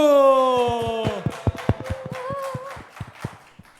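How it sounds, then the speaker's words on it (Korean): A church youth group claps for a newcomer at a Sunday worship gathering, with scattered individual claps and taps that start under a sustained sung or spoken tone and thin out into sparse, uneven hits. "박수!"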